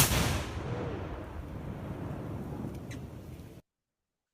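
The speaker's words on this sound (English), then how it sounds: "Here's the same explosion from a different angle in slow motion." A gas explosion bursts with a powerful boom, and its loud echoing rumble rolls on for about three seconds before the sound cuts off abruptly.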